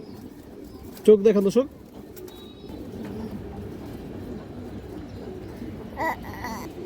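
High-flying pigeons kept in a loft coo in low, throaty bursts, one louder call standing out near the start over a steady background murmur, while someone talks nearby.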